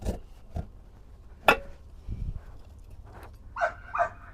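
A dog barks twice near the end, sharp and fairly close, after a stretch of scattered thumps and clatter.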